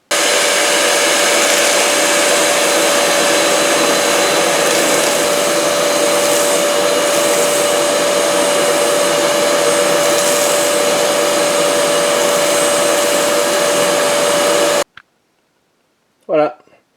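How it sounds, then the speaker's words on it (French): A Karcher vacuum fitted with a cyclone separator sucks up wood chips in a loud, steady whine with a constant tone for about fifteen seconds, then cuts off, followed by brief faint noises. "On va aspirer tout ça et on mesurera à la suite le poids du sac aspirateur Karcher"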